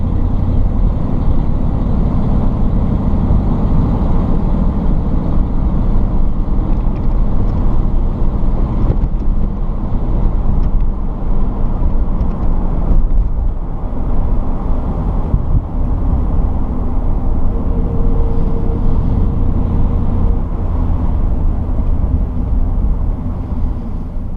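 A 1951 Ford Deluxe Tudor two-door sedan drives along at steady speed, its loud, continuous engine drone and road rumble filling the cabin with little variation and no talk.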